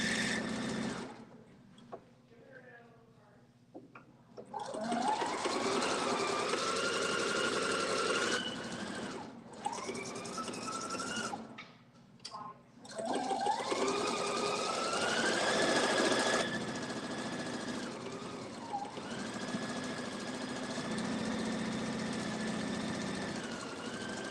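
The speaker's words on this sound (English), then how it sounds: "I typically don't sew this fast." A sewing machine stitches a matching pillowcase at high speed, its motor whirring in long fast runs that rise in pitch, broken by short pauses and restarts.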